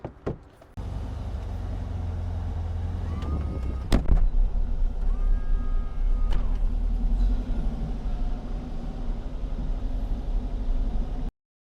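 A Nova kit car drives along the road, its steady engine rumble and tyre roar holding close and loud with no talk, a brief mechanical clunk or whirr rising partway through.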